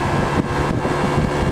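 Steady wind roars and buffets against a microphone outdoors on a windy day, continuous and fairly loud throughout, with no one speaking.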